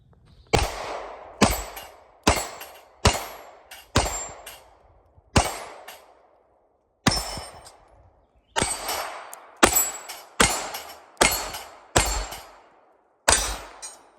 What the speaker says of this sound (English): let's go shoot her over at Steel.